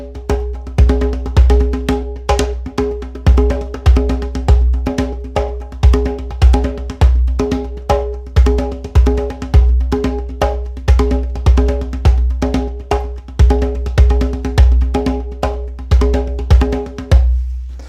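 Hand drum played in a fast, steady rhythm with accented strokes over deep bass tones, a continuous even pulse that is close and fairly loud, with no talking.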